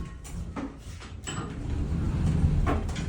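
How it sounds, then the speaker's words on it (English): An elevator door in a condominium slides open with a rolling mechanical rumble and a few clunks, building to a steady low drone nearby. "Door opens nicely."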